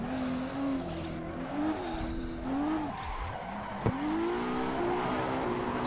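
Car drifting in the Assetto Corsa racing game, with continuous loud tire squeal whose pitch swoops and wavers through the slide over a steady engine drone, and one sharp click near the end.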